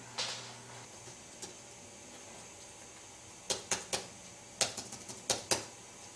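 Someone types on a keyboard while sitting on a couch, producing irregular clusters of sharp, close key clicks after a quiet pause, with no talking.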